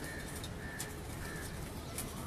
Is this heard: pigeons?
yes